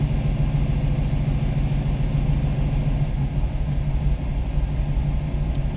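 A restored, warmed-up car engine idles with a steady, loud, low rumble that holds even throughout, with no talking.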